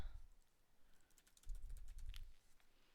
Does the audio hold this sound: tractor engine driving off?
no